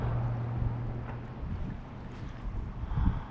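Wind gusting outdoors near the Temagami Fire Tower on a lakeside canoe route, a steady loud rumbling buffet of wind noise on the microphone with a low hum, no speech.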